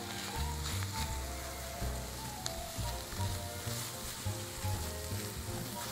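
Onions caramelize with brown sugar in a pan, a soft, steady sizzle underneath a low tonal hum and some faint clinks, fairly quiet overall with no speech.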